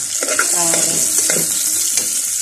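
Garlic sautéing in a hot pan for a fish sinigang with cabbage, a loud close sizzle with spatula stirring and scraping against the pan; no talk.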